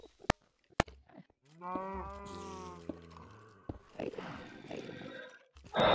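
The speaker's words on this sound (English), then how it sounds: "Run, cow, run!" A cow mob in Minecraft lets out a long, drawn-out moo that comes across loud and clear. Sharp clicks come before it and a burst of rustling game noise follows, with no talking.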